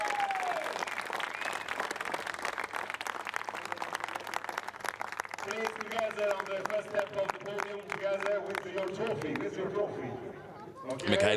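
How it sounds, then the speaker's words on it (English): A crowd cheers and applauds for a first podium finish at a Ferrari Challenge Europe Coppa Shell race in Budapest, a steady wash of clapping and cheering with announcer speech and music running beneath it. "And now this is when the huge cheer will come."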